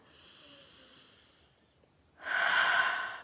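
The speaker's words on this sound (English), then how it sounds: "Nice breath." A person draws a slow breath and then lets out a louder, airy exhale, quiet and close in a calm, still room.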